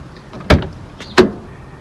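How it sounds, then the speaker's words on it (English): Two sharp mechanical clunks about a second apart, a 2010 BMW X5 door lock releasing then the door latch opening, close by with no talking. "So unlock, open the door."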